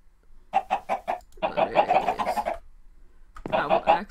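A gold chicken in the Minecraft StoneBlock modpack clucks in three short bursts of repeated clucks, near and clear, with quiet gaps between them.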